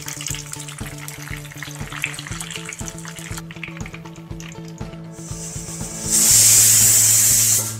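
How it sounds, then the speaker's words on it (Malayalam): Cashews and raisins fry in a pan while Malabar beef biryani is being made, a soft crackle that turns into a loud, close, continuous sizzle for the last two seconds, with no voices. "അണ്ടിപ്പരിപ്പ് ഒന്ന് നിറം മാറി വരുമ്പോൾ അതിലേക്ക് നമുക്ക് കഴുകി വെച്ചിരിക്കുന്ന മുന്തിരി കൂടി ഇട്ട് വറുത്തെടുക്കാം."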